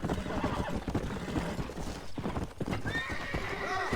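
Horse in Red Dead Redemption on PC, hooves clip-clopping steadily throughout and a whinny breaking out near the end, with game and ambient noise around it.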